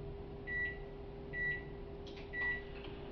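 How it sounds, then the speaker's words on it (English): Microwave oven running while softening chocolate chips for a marble cake, with a steady low hum and faint tonal beeps at regular intervals, quiet and close with no talking. "we're going to go ahead and soften our chips in the microwave"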